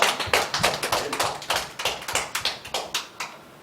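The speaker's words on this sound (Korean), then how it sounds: "우리에게 은혜 주신 하나님께 영광의 박수 올려드리겠습니다" A church congregation claps together during a Sunday worship service, giving God a round of applause. The claps come quick and steady in a near-regular rhythm, close and crisp, with no voices over them.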